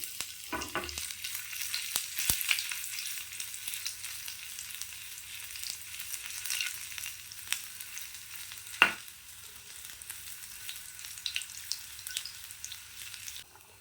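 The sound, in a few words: cinnamon, fennel, cloves, ginger, garlic frying in oil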